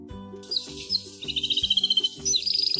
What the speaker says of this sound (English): It's a canary.